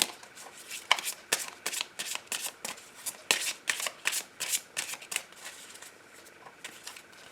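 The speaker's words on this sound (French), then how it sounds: "Je vais commencer ce soir mon tirage par prendre des messages avec l'oracle des papillons." Oracle cards being shuffled by hand for a card reading: a steady run of crisp riffling bursts and papery flicks, fairly close and distinct, with no talking over them.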